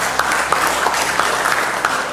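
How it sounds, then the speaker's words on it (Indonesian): An audience at an official ceremony applauds, a steady mass of clapping at moderate loudness running the full length, with a faint voice underneath. "Ya kita tepuk tangan"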